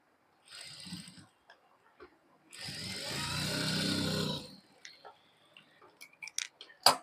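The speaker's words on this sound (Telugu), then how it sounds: "ఇలా పైపింగ్ చేసిన దగ్గర నేను డబుల్ స్టిచ్ అయితే వేసేసుకుంటున్నాను" A sewing machine runs a double stitch along the piping on a tailored garment, in two quick mechanical bursts, the second longer and steadier, followed by faint clicks and handling.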